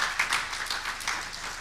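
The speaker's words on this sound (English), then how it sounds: "I'm going to ask you to give the next speaker a round of applause." An audience applauds, many hands clapping in a dense, steady burst that fills the space without pause.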